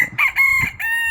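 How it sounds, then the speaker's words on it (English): A young rooster crows among a backyard flock of chickens, a close, loud, slightly strained cock-a-doodle-doo in several rising and falling bursts over about a second. "Little rooster found his voice."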